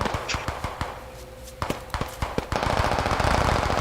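Gunfire in the tactical shooter Squad, with rapid bursts and scattered single shots, some near and loud and others more distant, building into denser firing at the end.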